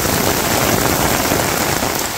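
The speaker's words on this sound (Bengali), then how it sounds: "ফোঁটা পড়তেছে, ঝড় ঝড় ঝড় ঝড় শব্দ, দারুণ।" Heavy rain pours down steadily on a village, a loud, dense, unbroken hiss of drops striking surfaces close by.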